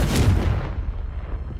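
A Confringo blast spell from Hogwarts Legacy lands as one loud booming explosion that thumps hard and then rumbles away over about a second and a half.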